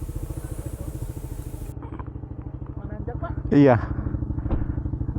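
A motorcycle engine idles close by with a steady, rapid putter, revving briefly once midway; a voice gives a short one-word reply over it.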